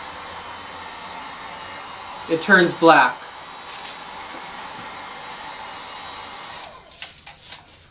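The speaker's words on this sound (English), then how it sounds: "So this is a basic hair dryer." A basic hair dryer blows hot air onto thermal paper with a steady, whirring drone that cuts off near the end, and a person speaks briefly partway through.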